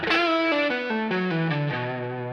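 An electric guitar with effects plays a smooth, sustained descending melodic line, notes gliding into one another, loud and close with no talking.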